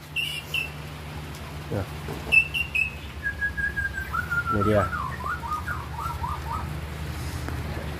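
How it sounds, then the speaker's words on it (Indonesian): An old male white-rumped shama, the murai batu, close to ten years old, sings clear whistled phrases and rapid warbling trills. The bird is fairly near, with low background hum. Someone speaks briefly partway through. "Jadi ini bapakan murai batu yang umurnya sudah di atas 5 tahun ya."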